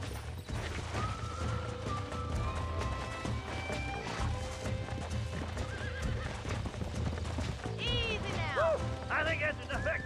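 Horses in the Red Dead Redemption video game, with hooves clip-clopping at a gallop under game music and a loud neigh near the end, while characters talk over it.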